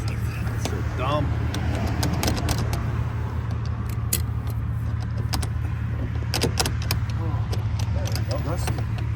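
Keys on a single key ring jangle in scattered metallic rattles while someone works at a rusty padlock, with people talking over a low steady engine hum.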